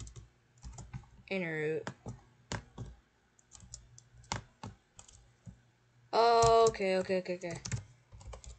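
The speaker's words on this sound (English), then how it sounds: "I gotta type quicker" Fast typing on a computer keyboard during an online game, with irregular clicky key strokes and short pauses, under brief speech in places.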